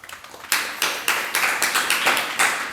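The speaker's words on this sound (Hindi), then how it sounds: "अभी ताली बजाने की जरूरत नहीं है" Rhythmic applause from a crowd at a religious sermon, bursts of clapping rising and falling roughly every half second, close and fairly loud.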